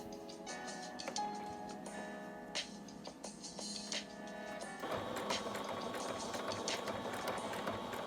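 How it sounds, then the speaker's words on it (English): A sewing machine stitching two cloth layers of a homemade fabric mask, a fairly quiet mechanical whirr with ticking needle beats that shifts to a denser, steadier run partway through. "So here you can see I just sewed the 2 cloths together for about 1 inch or so."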